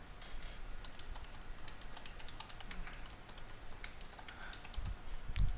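Rapid keystrokes on a computer keyboard as a password is entered, a steady run of light clicks fairly close with a couple of heavier taps near the end, no voices.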